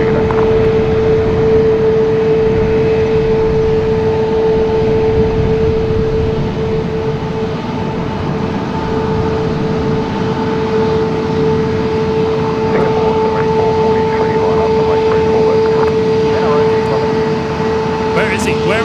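Airliner taxiing at Sydney Airport, a steady loud engine whine and rumble that holds constant throughout, with no break in the drone.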